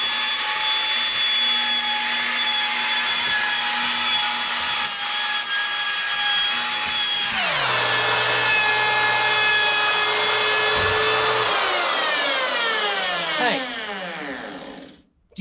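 A cheap router cuts around the edge of a round wooden table top, its steady high whine running continuously, then dropping in pitch partway through as it bogs under load and slowly winding down near the end.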